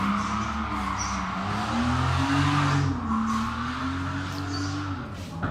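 A drift car at drift championship practice in Cyprus holds a sustained engine note that rises and falls with throttle, tires squealing across the run, loud and continuous with no talking.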